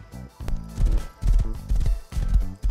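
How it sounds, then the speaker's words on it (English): A horse gallops in the survival video game Rust, its hooves thudding in uneven rhythmic bursts with brief pauses, close and fairly loud. "I bought a horse, so we're on the horse"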